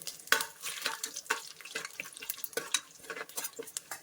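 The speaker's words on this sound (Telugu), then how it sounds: "ఆయిల్ మంచిగా హీట్ అయిన తర్వాత ఇందాక మనం బిర్యానీకి తీసి పెట్టుకున్న మసాలాస్ అన్నింటినీ యాడ్ చేసేద్దాం" Biryani whole spices and bay leaves fry in hot oil in a cooker for chicken biryani, giving a close, crackling sizzle with irregular spits and pops throughout. There is no talking.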